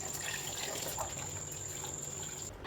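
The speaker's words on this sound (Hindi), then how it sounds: "ये चावल खीर के लिए है, इसको वॉश कर लेते हैं पहले।" Rice for kheer being rinsed in water in a home kitchen, giving a soft, continuous trickling and sloshing that stays faint and even throughout, with no talking.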